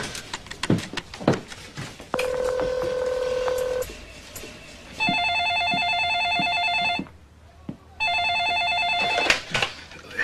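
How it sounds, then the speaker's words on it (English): A landline telephone being dialed, its keypad tones beeping in a quick series, followed by two long bursts of electronic ringing with a short pause between, heard close and clear with a faint voice at the start. "I want to call Eddie Garcia. Where is the phone"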